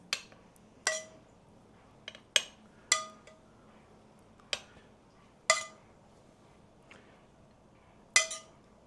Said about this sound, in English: I'm gonna just kind of spoon this all around our meatloaf here